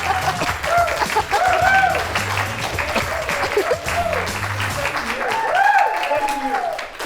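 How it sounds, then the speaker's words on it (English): A studio audience claps steadily on a talk show set, a dense wash that runs throughout under continuous talking from the hosts. "Executive producer Jeff messing up the audience clapping"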